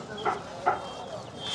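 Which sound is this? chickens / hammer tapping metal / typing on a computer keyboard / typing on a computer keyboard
chickens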